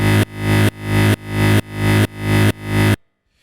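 Reversed granular delay on a Boss RC-505 loop station, fed by a breath blown into the mic. Six rising, swelling pulses in an even rhythm build loudly and cut off sharply, then silence.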